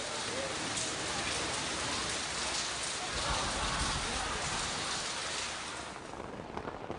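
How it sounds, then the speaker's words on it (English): Hours of rain keep falling over an open-air concert, a thick, unbroken wash of drops hitting surfaces that eases slightly near the end, with no one speaking. "Five hours later, it's still raining."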